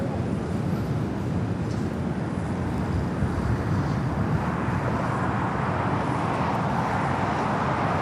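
A Boeing 777 airliner on the ground at LAX gives off a broad steady jet rumble at a distance, constant and unbroken with wind buffeting the microphone.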